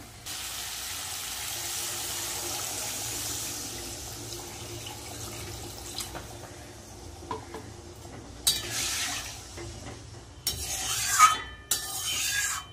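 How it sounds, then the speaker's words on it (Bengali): Water poured into fried spice masala in a pan for a fish curry, a faint steady hiss and sizzle that grows into louder splashy bursts toward the end, close by with no talking. "এবার আমি দিয়ে দেবো জল।"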